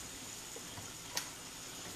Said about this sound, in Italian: Saltiamo i nostri pomodorini